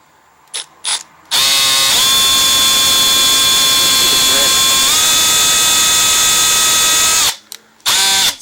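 A battery drill spins a tiny, thin drill bit, a loud, close high-pitched whine that runs steadily for about six seconds and shifts pitch as it works, framed by brief short bursts before and after.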